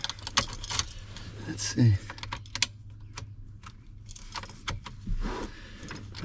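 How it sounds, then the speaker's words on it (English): A key jangles on its ring and turns in the ignition switch of a 2001 Ford Super Duty pickup, with rattling clicks close by and a few quiet spoken words. "let's see if we turn the key, if we can hear that latch doing its thing"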